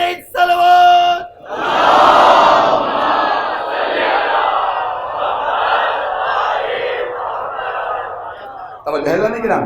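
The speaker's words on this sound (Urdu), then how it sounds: "بلند سے بلند ترین صلوات." A congregation at a majlis loudly recites salawat together, a dense, sustained roar of many voices swelling after a brief spoken line and holding steady for several seconds before a single voice returns.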